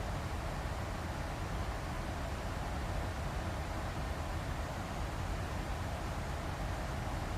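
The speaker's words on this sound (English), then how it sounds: "The good old white noise of the engines." A soft, constant wash of white noise from the Boeing 737-8 jet engines in a flight simulator. It holds level the whole time with no voices.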